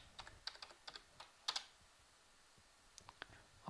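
A password is typed on a computer keyboard in a quiet room: soft, irregular key taps in a short burst, a pause, then a few more keystrokes.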